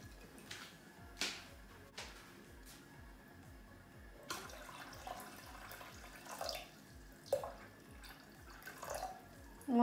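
Water runs and pours into a container, 1.5 litres for making peach iced tea, a soft steady trickle with splashes and small knocks, heard close with no talk.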